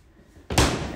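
A sliding glass door in a mobile home kitchen is pushed shut, a single loud, close thud-slam after a soft sliding rumble, then a short decaying rattle.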